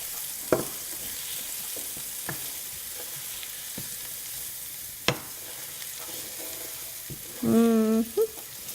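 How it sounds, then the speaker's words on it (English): Garlic frying in a pan for lasagne gives a soft, steady sizzle under scattered clicks and taps from stirring, with a short tonal squeak near the end. "So we're gonna let it fry for about 2 minutes. You don't want to burn the garlic."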